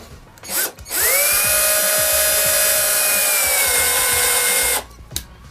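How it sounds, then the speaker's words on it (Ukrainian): A Metabo Power Maxx cordless screwdriver, clutch on its first setting, drives a small furniture screw in one continuous close whirring run of about four seconds, with brief handling knocks just before and after. "Спочатку метабу на першому положенні, як справляється з маленькими меблевими"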